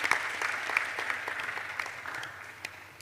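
Light, scattered applause from an audience at a WASH innovation fair as a tech exhibitor is welcomed on stage, fairly faint and thinning out toward the end with a few isolated claps.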